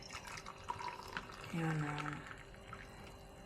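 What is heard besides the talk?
water poured into a cup for breakfast chai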